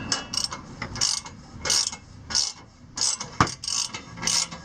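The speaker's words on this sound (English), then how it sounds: "Let me get my ratchet." A hand ratchet clicking as it tightens the catalytic converter bolts on a 2004-2009 second-generation Toyota Prius, bursts of quick metallic pawl clicks in a back-and-forth rhythm, close and fairly loud.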